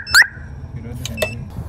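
A car alarm siren with a faulty sound is tested after its wire is connected. It gives a few short electronic chirps and warbling beeps over a steady low hum, close by and fairly loud.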